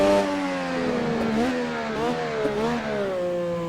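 Simulated Formula 1 car in Assetto Corsa at Suzuka, its engine revving hard as it climbs through the gears, with a steady rising whine that dips and jumps at each quick upshift, loud and continuous with no talk.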